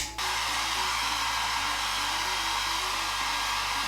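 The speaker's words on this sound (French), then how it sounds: "j'ai mon petit sèche-cheveux ici, donc je vais le faire sécher assez vite" A small hair dryer, used to dry paint, starts and blows with a steady, loud whooshing roar and a constant motor hum, running on its own without pause.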